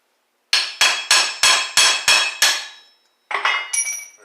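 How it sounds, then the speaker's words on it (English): Hammer blows on a chisel driving out the rear axle of a 1955 Chevy gasser, seven sharp ringing metallic strikes in steady rhythm, a pause, then a few lighter clinks as the part comes loose, close and loud. "Give her one more whack."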